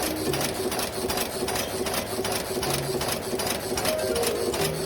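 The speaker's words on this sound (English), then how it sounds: "Step 1. Through the screw heading machine." A screw heading machine forming wood screw blanks in a factory runs in a fast, steady mechanical clatter, loud and close, with continuous rhythmic knocking throughout and no talk.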